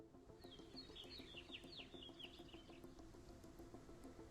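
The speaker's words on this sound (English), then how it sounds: "you hear the sound of birds." Ambient birdsong played as background during a Dungeons & Dragons tabletop session: a quiet, steady layer of chirps and tweets with a brief cluster of brighter calls early on, and no talking.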